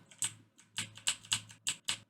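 Keys on a computer keyboard are tapped in a Unity editor session, about eight distinct clicks in an uneven rhythm, close and fairly crisp against a faint low hum, with no talking.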